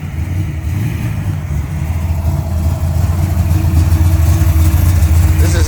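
A Hemi Cuda muscle car engine rumbles loud and close with a deep, steady low throb that swells slightly as it revs, amid outdoor ambience at a classic car gathering.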